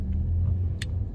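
A car engine and road rumble carry on steadily from inside the moving vehicle, a low continuous drone with a brief faint click partway through.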